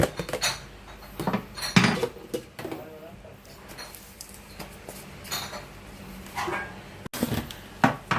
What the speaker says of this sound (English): So you beat the egg, beat the egg. One egg.